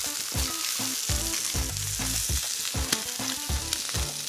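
Trout fillets fry in a hot pan with a steady, close sizzle that holds evenly throughout, broken by low knocks and bumps from the pan. Nobody talks.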